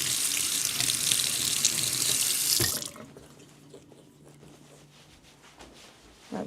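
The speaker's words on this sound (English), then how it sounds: "I'm going to take you guys with me and rinse off my brush" Kitchen sink tap running hard as a paintbrush coated in black ink is rinsed under it, a loud steady gush that cuts off abruptly after a few seconds, leaving faint drips and small handling sounds.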